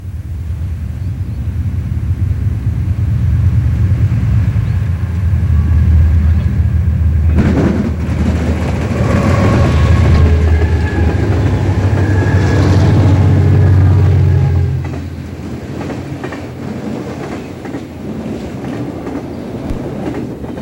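A high-speed train roars past close by at a rail diamond crossing in McCook, Illinois, loud and rumbling, with a burst of rattling clatter over the crossing midway before the noise drops and fades.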